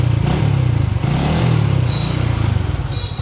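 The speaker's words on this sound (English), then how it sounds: "So let me just park up the bike." Motorbike engine idling and rumbling close by as it is parked on a street in Vietnam, a steady low throb with light clatter and traffic noise around it.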